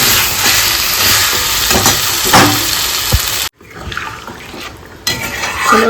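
Water poured into a pot of cooking meat with tomato and chillies, a loud close rushing splash and sizzle, broken by a brief silence before the bubbling and clatter resume.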